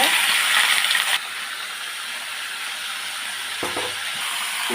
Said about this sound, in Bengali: চিকেনটা ভালো করে আমি ভেজে নেব